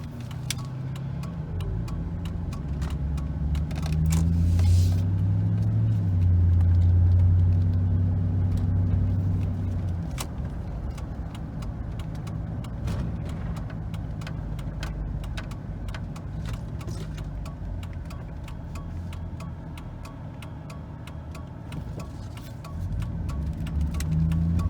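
A Chevrolet Silverado engine idling at 500 RPM, a steady low rumble that holds close and even for a long stretch with light ticking on top, rising briefly early on.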